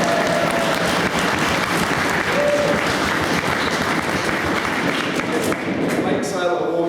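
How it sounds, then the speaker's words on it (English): A room full of people claps and cheers at a wargaming event's bake sale, dense steady applause lasting several seconds with voices mixed in. "And on that subject, a round of applause to Emma and Lily for baking."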